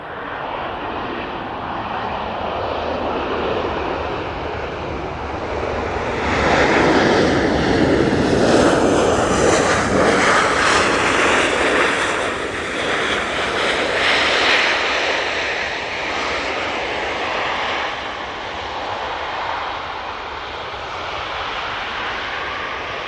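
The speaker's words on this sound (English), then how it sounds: "Oh, that was a bit of a firm old bounce there on the runway." A fixed-wing airliner lands on the runway at Manchester Airport with a firm bounce. Its engines roar steadily, swell louder to a broad peak mid-clip, then ease back to a sustained rumble, with no talk.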